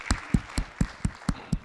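A congregation claps in thanks during a Korean church service, with sharp, evenly spaced claps at about four per second, close and crisp, and no talk over them.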